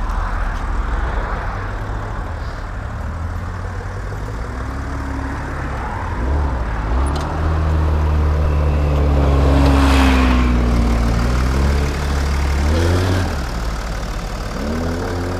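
A BMW X6 3.5 xDrive diesel engine idles with a steady, close low rumble and clattering hum, its pitch wavering slightly midway, with no talk over it.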